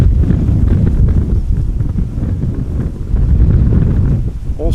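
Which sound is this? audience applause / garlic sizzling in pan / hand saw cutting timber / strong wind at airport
strong wind at airport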